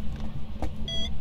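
A short electronic beep from ghost-hunting equipment in the game Phasmophobia, a thin tonal chirp near the end over a low rumbling background.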